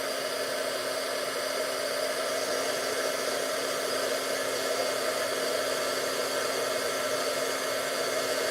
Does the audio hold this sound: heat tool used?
yes